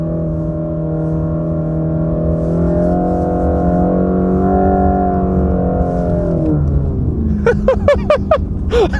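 A car engine at a concourse event drones steadily with a layered harmonic hum, then shifts pitch as the throttle is stabbed into a slide, breaking into sharp crackling bursts toward the end.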